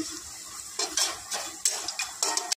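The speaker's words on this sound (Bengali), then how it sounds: "রসুনটা আমি এমনি কুচি কুচি করে দিলাম" Chopped garlic frying in a pot, heard as an uneven sizzle broken by repeated scraping and stirring strokes of a utensil against the metal, close and fairly loud, with no voices.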